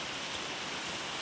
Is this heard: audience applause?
no